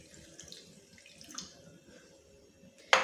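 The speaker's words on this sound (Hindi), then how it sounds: "1 कप से थोड़ा कम हम पानी ऐड कर देंगे इसके बीच में" Water poured from a tap or jug into sugar in a frying pan for balushahi syrup, a quiet trickle building to a brief louder splash at the end, no talking.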